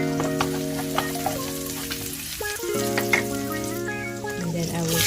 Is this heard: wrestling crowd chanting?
no